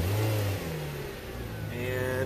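A Subaru engine with fuel problems, running after a jump-start with jumper cables, hums loud and close, briefly revving before settling into a steady run.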